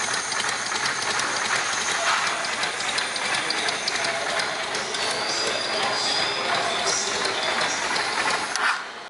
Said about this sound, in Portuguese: Ouçam agora um exemplo do som emitido pelo comando.